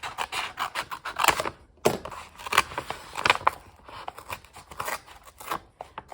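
Scissors snip through a fall fruit-print paper napkin close up, a series of crisp, irregular cutting crunches and rustles with no talking.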